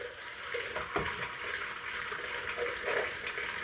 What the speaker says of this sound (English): I'm going to mix all the eggs and butter together and then mix it into the pudding